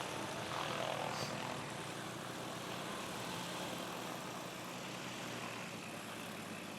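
A small propeller airplane taxiing past at a STOL competition, a steady loud engine drone and prop buzz held close throughout, with no talk over it.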